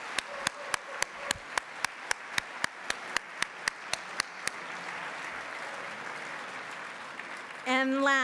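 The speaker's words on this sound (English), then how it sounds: "Let's give all of our sponsors a round of applause." An event audience at a health awards ceremony applauds the sponsors, with a dense wash of clapping and one sharp, regular near clap on top; the clapping fades and a voice begins speaking at the end.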